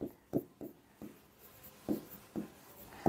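Pen strokes of a handwritten equation during a Bengali maths lesson on real numbers, heard as a series of short scratchy taps and scrapes spaced irregularly, close and fairly quiet with no talk.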